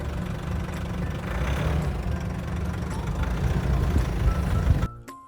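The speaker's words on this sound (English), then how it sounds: "I love those grumbly diesel engines" A 2023 Nissan Navara diesel engine idles with a steady low grumble, close and moderately loud, holding an even rhythm for about five seconds before cutting off abruptly.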